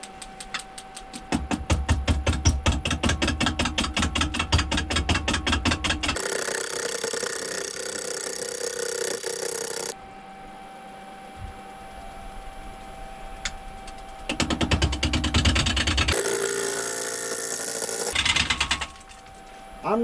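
A wood lathe spins a bowl blank mounted on a faceplate while a turning tool cuts it in roughly quarter-inch passes, giving a rapid rhythmic ticking scrape in bursts, with louder rough cutting stretches and short quieter gaps between them.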